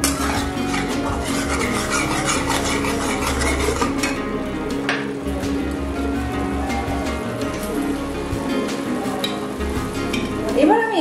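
Spices for dal makhani, reddened with tomato and Kashmiri red chili powder, sizzle steadily in a pan while being stirred and mixed, with soft scraping under a constant frying hiss.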